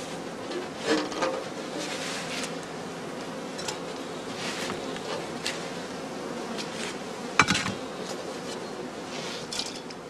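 Honey bees buzzing around straw skeps outdoors, a continuous moderate drone with a few louder passes and a brief knock partway through.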